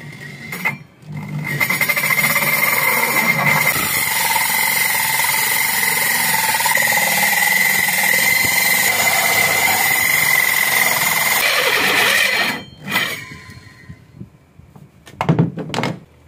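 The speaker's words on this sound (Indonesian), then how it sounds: "dengan garis kita langsung bor keduanya" A loud, steady power drill whine grinds continuously for about ten seconds while boring two holes, then stops, followed by a few short clunks and bursts.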